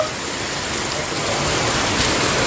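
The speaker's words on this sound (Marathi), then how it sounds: "खूप जोराचा पाऊस चालू आहे" Steady, dense hiss of heavy cloudburst rain falling, continuous and fairly loud throughout with no pauses.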